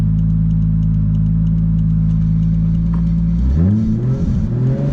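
An 800+HP MK4 Toyota Supra idles loudly and roughly at a light, then the clutch is eased out and the engine revs rise and fall in surging bursts as it pulls away, close and heavy.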